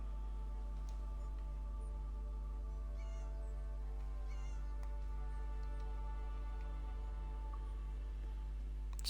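A cat meows a few times in Elder Scrolls Online, short faint mews rising above a constant low droning hum of the game's ambience.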